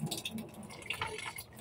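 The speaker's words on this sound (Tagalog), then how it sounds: "Tapos, lagyan natin ng tubig." Water poured into a bowl while mixing homemade dishwashing liquid, a brief splashing trickle heard close by with no talk over it.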